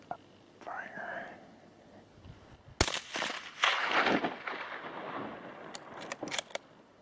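A single loud rifle shot fired uphill at a deer during a hunt in Slovenia, a sharp close crack with a lingering rolling echo, preceded and followed by soft whispered talk.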